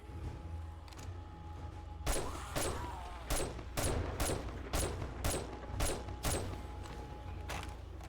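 Armor-piercing rounds fire during a zombie horde night in a survival video game: about a dozen sharp, loud gunshots at a fairly steady pace over a constant low rumbling background, with no speech.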